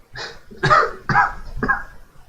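Four harsh coughs in quick succession, close and fairly loud, each a short rough burst with brief gaps between.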